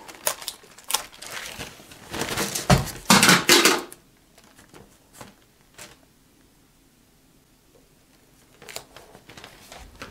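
Tape ripped off the roll by hand: a loud, raspy tearing burst lasting a couple of seconds, followed by quieter crinkling and handling noises and a few faint clicks in a quiet room.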